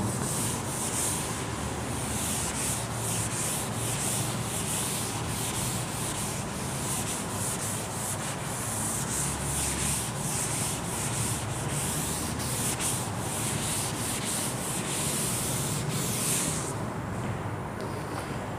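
A continuous, even rubbing or scrubbing sound, like an eraser or cloth rubbing a board during a maths lecture, running steadily for the whole stretch without pauses.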